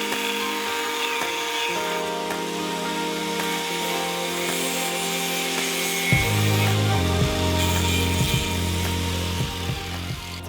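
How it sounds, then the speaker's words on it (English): A power tool cuts through extended lug nuts that were too long, a loud steady grinding rasp that deepens into heavier, lower chattering bursts partway through, with no talking. "To cut our lug nuts, or the extended lugs we had to cut just because they were too long"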